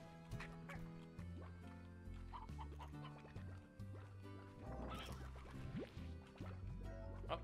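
Slime Rancher game audio with layered music and effects, with short clucking and squawking chicken calls scattered through a busy, steady mix.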